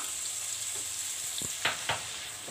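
Vegetables sautéing in a hot pan for vegetable noodles, with turmeric being added: a steady close sizzle with a few sharp scraping stirs near the end.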